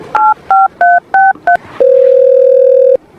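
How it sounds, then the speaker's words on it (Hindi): Phone number dialed on a telephone keypad: five quick evenly spaced touch-tone beeps, then a steady ringing tone held for about a second, loud and close with no talking. "फोन लगाओ तो जल्दी।"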